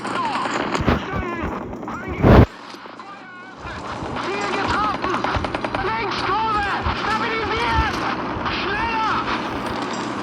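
Artillery shells boom in a tank video game, with several heavy blasts standing out over constant engine rumble and battle noise while a player talks throughout.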